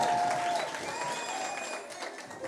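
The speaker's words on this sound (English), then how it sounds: "Round of applause." Audience applause for a winner at a township entrepreneurs' event in Motherwell, a steady round of clapping with some tonal whistles on top that gradually eases off.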